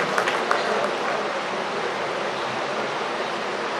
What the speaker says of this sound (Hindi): एक जोरदार ताली बजाई हमारे वाराणसी फिल्म से